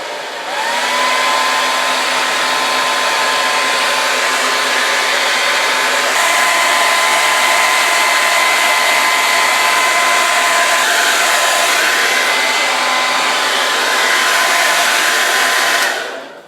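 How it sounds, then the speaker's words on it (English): Hair dryer blowing steadily for about sixteen seconds close by, a loud even whoosh with a constant motor whine, drying damp Alcantara suede, then cutting off at the end; no talking. "I'm actually going to get my hairdryer and just dry that up quickly."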